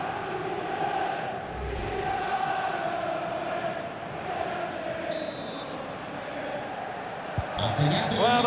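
A large stadium crowd in the FIFA 22 football game during a Champions League match between Napoli and Liverpool, keeping up a steady, broad roar throughout with a brief whistle-like tone near the end and a commentator talking over it.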